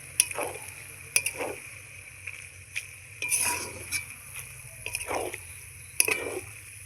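Cabbage is added bit by bit to a pan of chicken cooking on the stove, giving a soft, steady sizzle punctuated by repeated clinks and scrapes of a spoon stirring against the metal pan.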